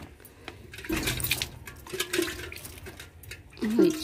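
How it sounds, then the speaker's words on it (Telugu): Water splashes and gushes as it is poured over turmeric plants growing in pots on a terrace garden, in uneven bursts that swell louder toward the end. "ఇప్పుడు కొంచెం నీళ్ళు పోసుకుందాం అన్నిటికీ"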